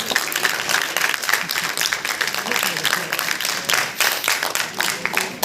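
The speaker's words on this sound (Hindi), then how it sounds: "आप लोग तालियां बजा सकते हैं" An audience at a college Hindi parliamentary debate claps after the two teams are thanked, a loud, sustained crackle of many hands with some voices mixed in.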